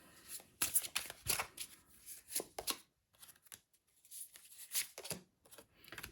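Playing cards shuffled close by in quick riffling bursts, a brief pause, then more shuffles and soft card handling.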